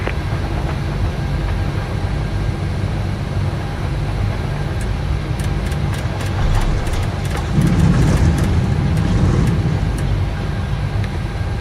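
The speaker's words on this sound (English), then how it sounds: "We have a good engine start." Steady low rumble of a FedEx heavy airliner's engines idling after start in a flight simulator, a constant dense drone with faint clicks on top and no talking.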